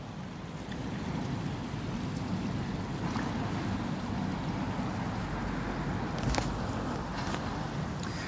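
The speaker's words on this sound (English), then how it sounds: "So I can wash my hands." Steady running water from a tap pours outdoors as someone washes their hands, a continuous close rushing hiss with a few brief knocks, no talking over it.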